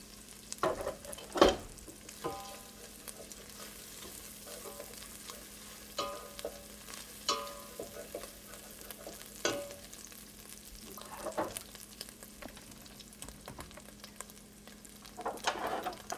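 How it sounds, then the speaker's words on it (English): Carrots and beef frying and being stirred in a pan of bolognese sauce, a steady soft sizzle with occasional scraping stir strokes and clunks, close and with no talking. "So I'm going to add in the carrots. And now I'm going to start taking the beef apart and start adding that too."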